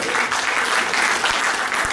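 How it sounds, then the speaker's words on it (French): A crowd claps steadily and loudly, dense applause filling the space without pause. "S'applaudit, s'il vous plaît."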